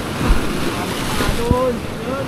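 Strong sea waves surge and wash continuously at a fishing spot, with wind buffeting the microphone and a voice briefly speaking over the broad rushing water.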